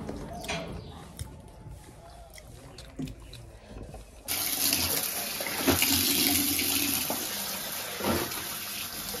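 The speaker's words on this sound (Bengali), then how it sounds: "বিছানার চাদর কম্বল আমাদের জামাকাপড় বাবু মার জামাকাপড় সমস্ত কিছু এখানে ভিজিয়ে মা এখন ধুয়ে দিচ্ছে" Soaked bedsheets, blankets and clothes are washed by hand, with water splashing and running faintly at first, then turning into loud, steady gushing and sloshing nearby.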